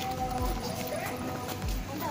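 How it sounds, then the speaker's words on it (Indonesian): A Shetland pony at a pony park walks on hard ground, giving soft, spaced clip-clop hoofbeats under a busy background of people talking and outdoor noise. "Ada kuda."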